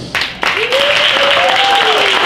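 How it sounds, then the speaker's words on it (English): An audience applauds loudly after a university faculty talk, the clapping rising quickly and continuing steadily, with a voice audible over the crowd. "can we give a round of applause"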